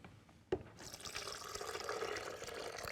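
Water pours steadily from a tap onto starchy potatoes in a pot in a kitchen, a soft splashing stream starting after a single clunk and running on evenly.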